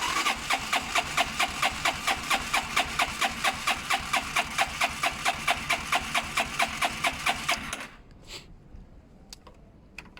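A Zontes motorcycle engine idles roughly, chugging in an even, loud, close pulse for about eight seconds before cutting out into near silence with a few faint clicks.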